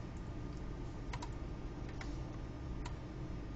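Sharp, sparse clicks from a computer mouse, several isolated taps spread unevenly over a steady background hum, used while picking items in meal-planning software.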